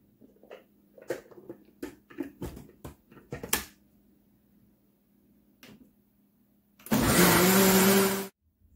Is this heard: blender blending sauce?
yes